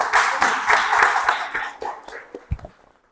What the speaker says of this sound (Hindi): प्लीज कम सर के लिए ताली हो जाए